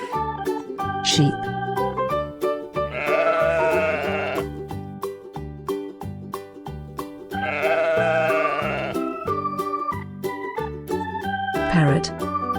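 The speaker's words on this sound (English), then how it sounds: "sheep," Sheep bleating twice in long, wavering calls, each one rising clearly over steady children's background music.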